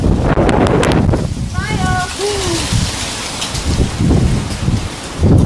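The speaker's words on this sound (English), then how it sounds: "It's a little windy." Wind buffets the microphone in heavy gusts, with a rough rushing noise throughout and a brief bird call partway through.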